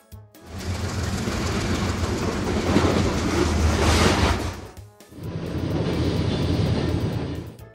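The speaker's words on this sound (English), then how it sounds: "High-speed train." A high-speed train roars past at speed, a loud rushing wash of noise that swells, breaks off briefly, then surges again as more cars go by.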